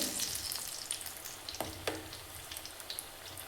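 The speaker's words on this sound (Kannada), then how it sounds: "ಸುತ್ತಲೂ ನೀಟಾಗಿ ಬೆಂದ್ಕೊಂಡ್ರೆ ಆಲೂಗಡ್ಡೆ ಬೋಂಡ ಚೆನ್ನಾಗಿರುತ್ತೆ" Potato bondas coated in gram-flour batter fry in hot oil, a close, continuous crackling sizzle with scattered sharp pops and a few stirring clicks, no voices.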